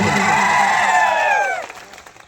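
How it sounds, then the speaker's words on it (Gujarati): A crowd at an Aam Aadmi Party political rally in Atha Dungri lets out loud, whooping cheers for a village sarpanch, close and dense for over a second before cutting off sharply into quiet. "આપણે જોરદાર તાળીઓ પાડી લઈએ"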